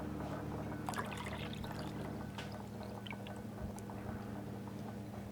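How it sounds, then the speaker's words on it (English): Water is poured into a pan of lemon juice and crushed garlic for a chicken and potato bake, a quiet, continuous trickling pour with no speech. "And then we're going to add water."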